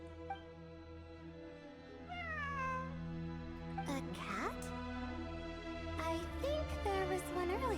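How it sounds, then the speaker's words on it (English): A cat meows repeatedly in the video game Genshin Impact, several drawn-out, rising and falling calls heard clearly over a low droning game music bed. "It really is a cat."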